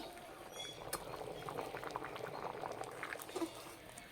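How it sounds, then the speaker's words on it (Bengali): Dal with spinach and mixed vegetables bubbling in a pot, a steady low simmer with soft popping bubbles, close and faint, no voices. "দুই একবার ফুটে গেলেই হয়ে যাবে"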